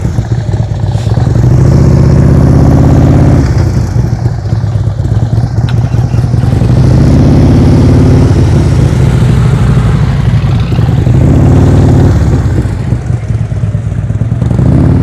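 A motorcycle idles and creeps along at slow speed during riding practice, its engine loud and near with gentle throttle rises and dips and some mechanical clatter, with no talking.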